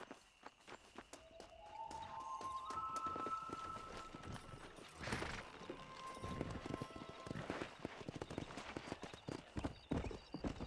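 Horse hooves clip-clopping as a rider sets off in Red Dead Redemption, a rapid uneven clatter of hoofbeats close by, with a neigh and rising whistle-like tones early on and gameplay sounds mixed in.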